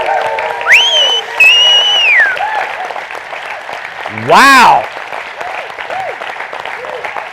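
Audience standing and clapping at a live business call event, a steady wash of applause throughout, with a voice and a rising whoop or exclamation heard over it.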